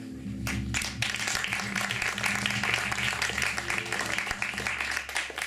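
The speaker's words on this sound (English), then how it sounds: "can I have a, a round of applause" An audience at a Latin American music festival bursts into sustained applause after a guitar performance. The clapping is loud and dense, holding steady for several seconds with no pause.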